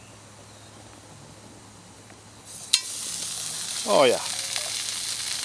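Lightly seasoned catfish hits a very hot dry pan with a sudden loud sizzle that settles into a steady, close hiss; someone speaks briefly over it.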